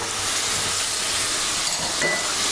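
Pork and vegetables, including tomatoes, sizzle in a thin wok for a stew, making a loud, steady frying hiss with light stirring scrapes underneath.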